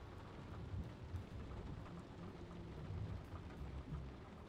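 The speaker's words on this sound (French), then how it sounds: "Et il pleut." Steady, soft rain patters continuously in the video game Nobody Wants to Die, with a faint low rumble beneath, quiet and even throughout, with no voices.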